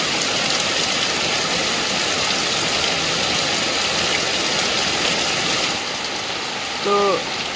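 Heavy torrential rain pours down in a dense, unbroken roar, close and loud throughout, with a brief faint voice near the end.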